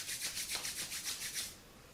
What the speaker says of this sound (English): Now just rub your palms nicely.